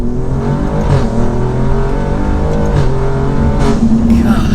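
A tuned 600 HP Alfa Romeo Giulia Quadrifoglio sedan accelerating hard, its engine note loud and close from inside the cabin, rising steadily in pitch with shifts and a continuous roar throughout.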